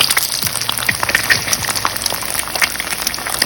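A sunny side up egg fries in a pan with a soft, crackly sizzle and scattered pops, steady and close without speech.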